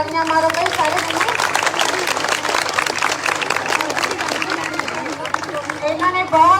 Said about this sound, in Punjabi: ਕਲੈਪਿੰਗ ਕਰਕੇ ਤਾੜੀਆਂ ਮਾਰੋ ਬਈ ਸਾਰੇ ਜਣੇ।